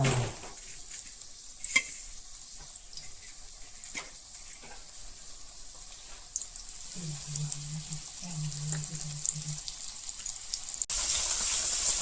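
Fish frying in a pan of oil after being coated in semolina, a steady soft sizzle with occasional light clinks and stirring sounds, close and continuous.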